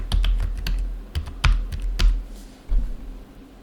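Someone types on a computer keyboard in quick, irregular bursts of close, crisp key clicks, with a few heavier thumps mixed in and no speech.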